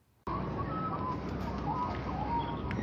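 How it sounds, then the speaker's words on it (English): Pigeons cooing outdoors amid steady, dense background noise, with soft warbling calls drifting in and out for under three seconds after a sudden start. "check out these pigeons."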